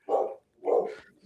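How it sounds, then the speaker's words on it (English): Two loud, close barks from a dog in a home, separated by a short pause, with a faint trailing yelp at the end. "I don't know if y'all can hear my dogs"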